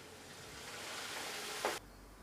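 Curry leaves dropped into hot oil while tempering tamarind rice give a steady broadband sizzle that swells briefly with a sharp burst of spitting, then cuts off abruptly, leaving faint background hiss.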